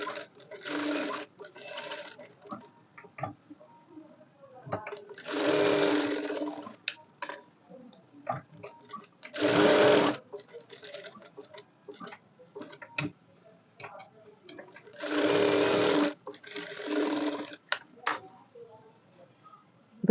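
A sewing machine stitches fabric in several short runs, each a burst of rapid mechanical clatter lasting one to two seconds, separated by quiet pauses with faint ticks and handling noises.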